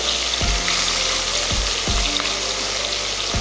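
Fish fries in hot oil with a loud, dense, continuous sizzle and crackle, joined by a few low thumps as pieces are shifted in the pan; no voices.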